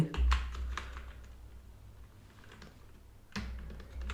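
Close, crisp keystrokes on a computer keyboard while writing MySQL table code, in a quick burst, then a pause, then another burst of typing.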